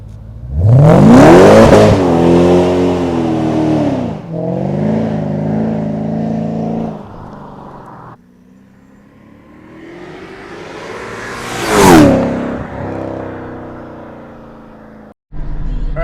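A Mercedes CLK55K drives past with strong revving bursts, engine pitch sweeping up and down through gear changes, rising loud and near then fading, with a second surge of acceleration later.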